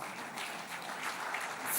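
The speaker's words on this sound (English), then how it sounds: "Ladies and gentlemen, let's have another round of applause" Steady applause from a conference audience greets the moderator of a fireside chat, a continuous even patter of many hands at moderate volume, filling the room throughout.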